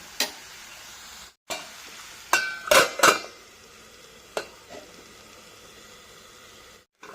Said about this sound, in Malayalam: ഈ തോരനെല്ലാം നന്നായി ഒന്ന് വഴന്ന് വന്നിട്ടുണ്ട്